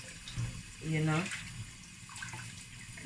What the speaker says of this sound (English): So you just want to make sure you rinse it properly.